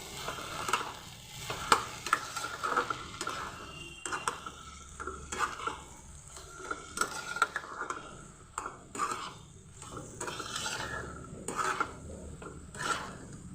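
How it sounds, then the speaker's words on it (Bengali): Fish head and cabbage are stirred with garam masala in a pan, giving soft, uneven scrapes and clinks of a spatula against metal over a gentle background sizzle, close and moderately quiet, with no voices. "এর মধ্যে আমি দিয়ে দেবো গরম মশলা গুঁড়ো দিয়ে আমি ভালোভাবে আবার নেড়ে নেব"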